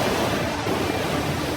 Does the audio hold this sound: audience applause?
no